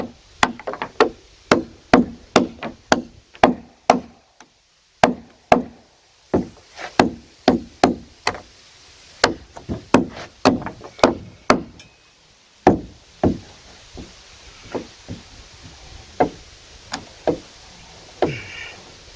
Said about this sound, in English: You can knock them out with anything, really.